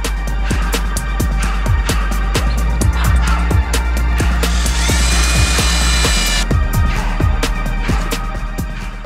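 Power drill driving screws into the bottom of a wooden Minecraft-style pumpkin build, with repeated short bursts of whirring and clicking, close and loud, and a higher sustained whine partway through.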